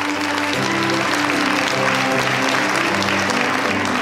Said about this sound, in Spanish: un aplauso a Alberto Espinosa